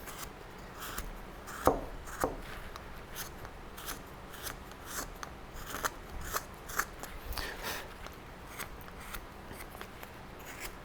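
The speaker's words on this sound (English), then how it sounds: "This is the number 9 gouge that we're using here." A number 9 gouge carves a simple wooden pumpkin, producing quiet, crisp cutting and crunching strokes at an irregular pace, with a few sharper snaps standing out.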